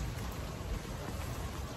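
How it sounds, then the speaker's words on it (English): Rain falls outdoors as a steady, even wash of patter, moderately faint and continuous, with no voices. "because there's rain out here"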